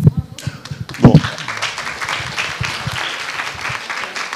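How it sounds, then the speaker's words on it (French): Lecture audience applauding in a hall, a burst of clapping that swells after a brief opening and then holds steady as a dense, even patter of many hands. "Oui, vous faites bien d'applaudir maintenant"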